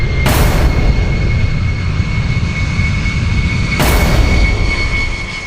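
British Airways Boeing 777 engines roar continuously at takeoff thrust at Las Vegas, loud and close. Two sharp, loud bangs break through the engine noise a few seconds apart.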